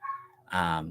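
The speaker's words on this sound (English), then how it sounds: "Sorry if you hear the dogs going off." Several dogs barking in the background of a home, a burst of yips and bow-wows rising over a quieter stretch, with a person talking over them.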